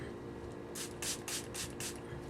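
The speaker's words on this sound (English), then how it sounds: "I'm going to dampen my sponge with my setting spray." Makeup setting spray is misted onto a makeup sponge, five quick pump sprays in a brisk close rhythm, each a short airy hiss, with no talking over them.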